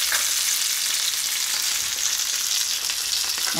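Fish fries in a pan with a bright, even sizzle and crackle that runs close and steady throughout, fairly quiet, with no talk.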